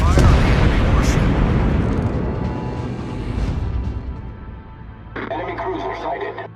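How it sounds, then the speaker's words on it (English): Naval gunfire in World of Warships, heavy booming cannon blasts and rumbling explosions layered under game radio chatter, loud and dense throughout. "Concentrate fire on the enemy warship."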